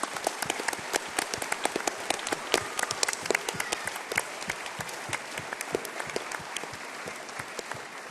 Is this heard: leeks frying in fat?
no